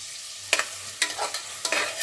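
Onions frying in a pan for chicken biryani, with a steady low sizzle broken by three sharp scraping stir strokes at roughly half-second intervals, close and moderately loud.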